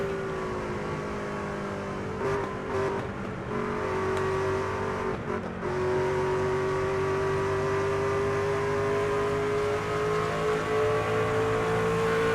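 A race truck engine in the NASCAR 25 video game holds a loud, steady high-revving drone under acceleration, its pitch climbing slightly and briefly dipping twice, with no talking.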